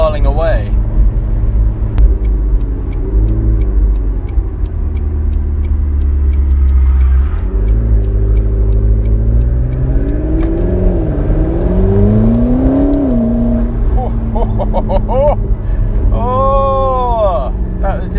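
A McLaren 650S Spider engine snarls and revs, rising and falling in pitch as the car accelerates, loud and close with a sharp crackle of exhaust pops near the end; a voice talks intermittently over it.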